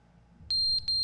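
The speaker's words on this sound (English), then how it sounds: "The fire alarm is finally out of battery." A fire alarm in The Stanley Parable gives a low-battery chirp: two short, loud, high electronic beeps rise out of a quiet room hum, alone and close.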